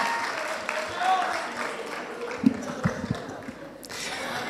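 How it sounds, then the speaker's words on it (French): Classmates in a French high school debate clap for themselves in a short burst of applause, with several sharper individual claps and a voice in the room. "Vous pouvez vous applaudir."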